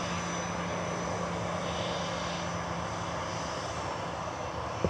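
An EasyJet airliner takes off at Manchester Airport, a continuous far-off engine roar with a low droning hum, steady and unbroken, heard alone without talk.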